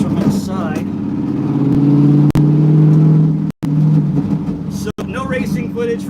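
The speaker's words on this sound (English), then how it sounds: "And get to hear how loud this car is from inside." Inside a car on the way to get gas, a loud engine drone holds steady and rises in pitch as it revs, with brief cutouts and a voice speaking faintly over it near the end.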